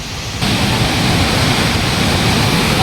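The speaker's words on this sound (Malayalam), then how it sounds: "അപ്പോൾ വെള്ളത്തിൻ്റെ സൗണ്ട് ഭയങ്കരമായിട്ട് കേൾക്കാൻ പറ്റുന്നുണ്ട്. ഭയങ്കര സൗണ്ട്." The Areekkal waterfall roars loudly and continuously, a close, dense rush of falling water that swells after the first half second and holds steady.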